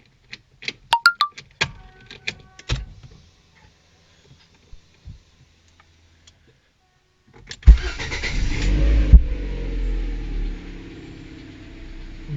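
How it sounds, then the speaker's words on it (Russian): A Lada Vesta 1.8 engine cranks and starts after several scattered clicks and knocks, then settles into a steady, close idle hum that holds for the remaining seconds. "Первый старт."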